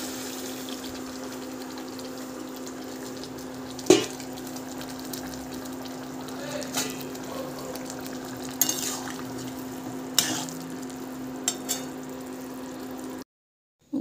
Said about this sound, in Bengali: একটু গরম জল দিয়ে দেব।